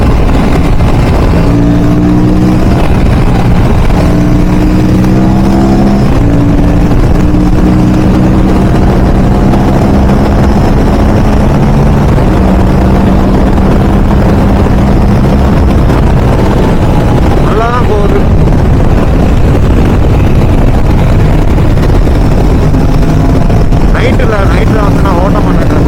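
An Aprilia scooter engine drones loudly and continuously during a ride, with wind rumble and a few pitch shifts as the revs change, while someone talks over it.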